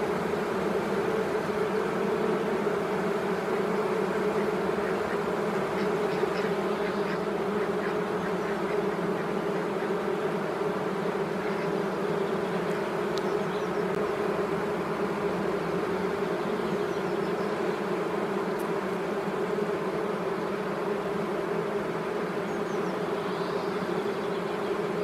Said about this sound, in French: Là on voit bien le comportement d'une colonie orpheline